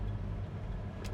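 A 1968 Chevrolet El Camino engine idles, a faint, steady low rumble that runs evenly throughout the brief moment.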